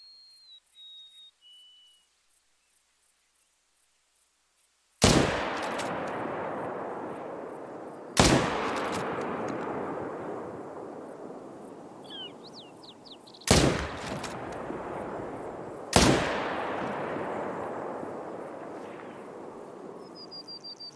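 Rifle shots ring out outdoors in a lakeside district, four loud sharp cracks spaced several seconds apart, each followed by a long rolling echo, with faint birdsong and quiet background between them.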